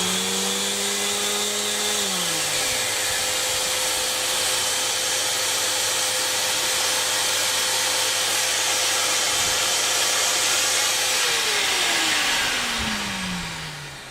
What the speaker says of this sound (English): I'll connect the vacuum to the sander,